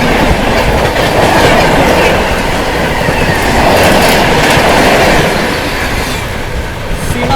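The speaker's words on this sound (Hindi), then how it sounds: "सामने से आ रही है आनंद विहार जोगबनी सीमाचल एक्सप्रेस" Seemanchal Express, the Anand Vihar–Jogbani train, passes close by with a loud, steady rumble and rhythmic clickety-clack of wheels on rail joints, sustained throughout with faint squealing.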